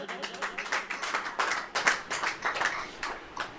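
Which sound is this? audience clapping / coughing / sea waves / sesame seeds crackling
audience clapping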